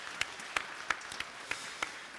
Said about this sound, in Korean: 우리 영광의 박수 한번 치도록 하겠습니다.